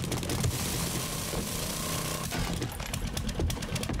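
A chainsaw revving and cutting into zombies in the survival game 7 Days to Die, a loud, continuous engine buzz with gritty mechanical churn, punctuated by sharp hits and surges toward the end.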